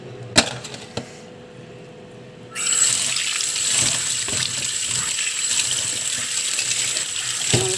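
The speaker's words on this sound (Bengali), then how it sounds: "ভালো করে আবার একবার ধুয়ে নেব।" Cauliflower washed under running tap water in a kitchen sink: a few sharp knocks and clinks, then a steady loud rush of water pouring and splashing that continues to the end.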